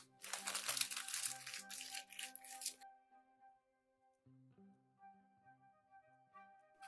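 Plastic bags crinkle and rustle loudly in bursts as they are wrapped around each other to form a spider body for a Halloween craft, then give way to quiet with faint background music.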